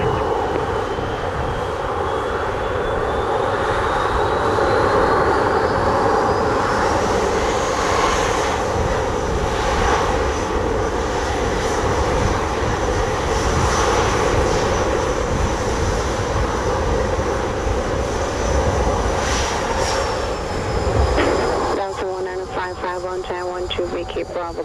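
An American Airlines airliner on approach to runway 07 at Montego Bay, Jamaica, roars as a loud sustained engine drone with a shifting whine that stays strong throughout, then mixed with tonal radio-like chatter near the end.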